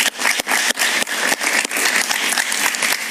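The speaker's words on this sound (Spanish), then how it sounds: "Un aplauso para Eduardo, por favor" Studio audience applauding a guest, Eduardo Martínez, on a Miami talk show: dense, steady clapping from a crowd, close and loud, with no talk over it.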